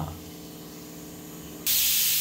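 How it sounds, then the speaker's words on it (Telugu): A pressure cooker cooking ragi rice for sangati lets out a loud, sudden burst of hissing steam from its whistle, cutting in abruptly over a low stove hum and holding steady to the end. "విజిల్ వచ్చేసిందండి."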